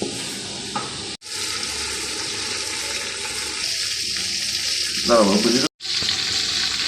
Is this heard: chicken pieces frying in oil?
yes